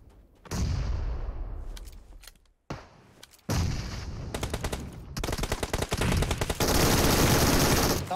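PUBG Mobile gunfire, close and loud, with single shots, a heavy boom, then sustained automatic bursts building into continuous rapid fire, and no one speaking over it.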